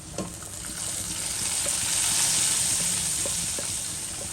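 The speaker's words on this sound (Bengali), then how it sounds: "এখন আমি ফোড়নটা ডালের মধ্যে দিয়ে দিচ্ছি" Spice tempering (phoron) poured into potato dal gives a steady, loud sizzle that swells midway and holds, with a few faint clinks, no voices.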